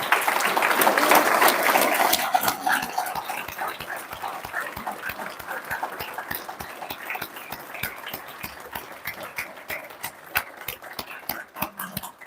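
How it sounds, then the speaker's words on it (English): Applause from a graduation ceremony audience honoring staff, loud and full at first, then thinning into scattered individual claps that continue in an uneven rhythm. "can the staff stand up so we can all just acknowledge them and give them a round of applause"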